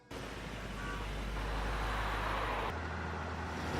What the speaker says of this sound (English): Porsche 911.